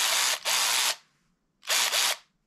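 A Hyper Tough extended cordless ratchet's motor whirs loudly in two bursts, the first about a second long with a brief dip midway and the second shorter after a pause, with no talking.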